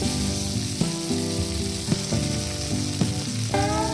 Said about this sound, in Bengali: চিংড়ি মাছটাকে ভেজে নেব।